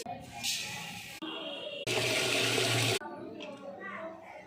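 Black rice being rinsed by hand in water, splashing and swishing in bursts, with one louder, fuller stretch of sloshing in the middle and quieter trickles around it.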